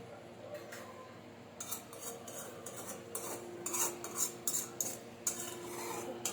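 A spoon scrapes and clinks around a pot as sugar is stirred into sweet semiya, a run of quiet rhythmic metallic rubs growing busier midway, with no talking.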